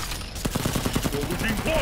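A volley of gunfire crackles in the video game Mortal Kombat X, with a rapid burst of many sharp shots in under two seconds.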